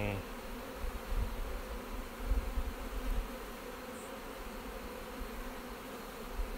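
Honeybees buzzing steadily in an open hive during an inspection, a dense continuous drone with some nearer passes, moderately quiet and without talk.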